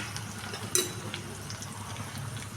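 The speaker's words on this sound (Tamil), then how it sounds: "நான் கொஞ்சமாக தாளிப்பு சேர்த்துக்கிறேன்" Tempering sizzling in a pan for a fish curry, with curry leaves and chilli powder, a steady close crackling hiss with a sharp metallic clink near the start, no talk over it.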